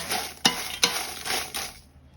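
Home-grown chillies dry-roasting with salt in a pan give a steady dry sizzle and rustle, punctuated by a few sharp scrapes of a utensil against the metal, close and alone without voices.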